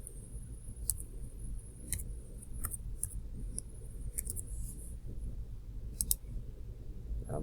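Calculator keys being pressed to enter numbers, a sparse series of light plastic clicks in irregular taps and quick pairs over a low background hum.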